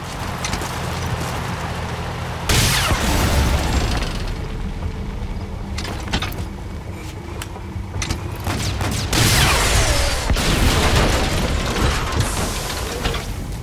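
Tanks are destroyed in Metal Gear Solid V: The Phantom Pain with heavy booming blasts and rumbling debris, loud and dense, alongside game mechanical and ambient noise, with no talk.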